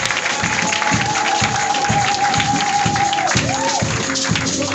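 A church congregation at a Pentecost service claps steadily and loudly, a dense wash of applause with light cheering mixed in and a sustained musical tone underneath.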